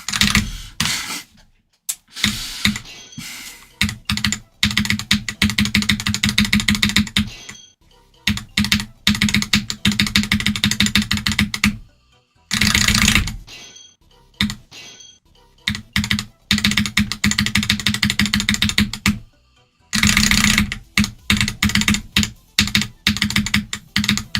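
Fingers type on a computer keyboard in fast bursts of clattering keystrokes, stopping briefly between runs. The sound is close and continuous, with no voices.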